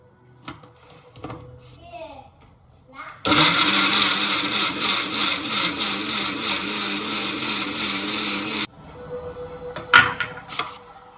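A mixer grinder blending tomato pieces in a jar runs loud and steady for about five seconds, then stops. Quiet handling noises and a voice come before and after.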